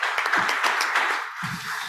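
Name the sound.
audience applause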